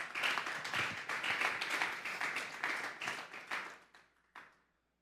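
A church congregation gives loud applause during a service, a dense wash of many hands clapping that rises, holds, and then thins to a few scattered claps and silence.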